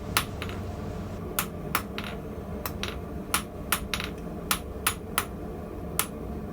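Hot steel is hammered on an anvil while forging nails: a dozen or so sharp, ringing metallic strikes in an irregular rhythm, close and distinct above quiet background noise, with no talking.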